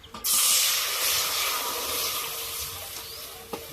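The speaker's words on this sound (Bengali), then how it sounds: "কড়াটা পরিষ্কার করে নিয়েছি, বা কড়াইতে জল দিয়ে দেব" Water splashed into a hot, cleaned kadai erupts in a loud sudden hiss that settles into a steady steaming rush, close, ending with a faint clink.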